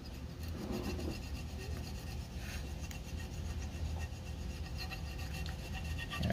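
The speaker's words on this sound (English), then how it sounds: "So just with a razor blade, box cutter, steel knife" A razor blade scrapes the mating surfaces of a Yamaha YZ water pump clean, a close, continuous gritty rasping with no voices.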